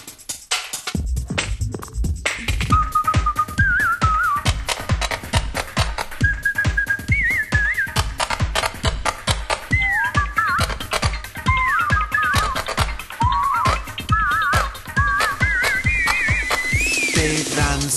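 A whistled tune carries the melody of a Russian pop song, its bright wavering phrases riding over a steady thumping dance beat and backing music for the whole stretch.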